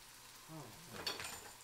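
Lamb kebabs sizzle and fry on a covered grill, a soft steady crackle with a brief clatter near the end, fairly quiet and close with no talking.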